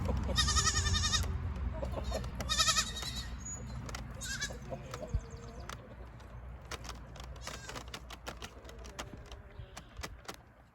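Young goats bleat in several high, wavering cries early on, then quieter rustling and occasional small bleats follow nearby.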